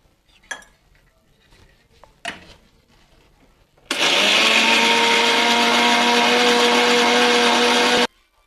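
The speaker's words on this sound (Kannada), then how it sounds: "ನೋಡಿ, ಇದೀಗ ಮಿಕ್ಸಿ ಆಗಿದೆ." After a few clinks of kitchen utensils, a mixer grinder blending cumin, coriander seeds, grated coconut, rock salt and water kicks on with a loud, steady whirring roar for about four seconds, then cuts off abruptly.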